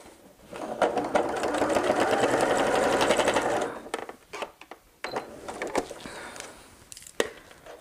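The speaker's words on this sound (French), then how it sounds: "je me positionne là et on surpique les deux côtés" A sewing machine runs in a loud, continuous burst for about three seconds while topstitching both sides of a fabric pouch, followed by scattered softer clicks and taps as the work is repositioned.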